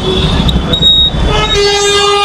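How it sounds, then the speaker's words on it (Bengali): Vehicle horns honk in busy street traffic in Agra, India. Loud, overlapping tones sound repeatedly over a steady traffic rumble, with one long horn holding toward the end. "আর এখানে এত হর্ন বাজাচ্ছে, বাপ রে বাপ, কান খুলে দেবে।"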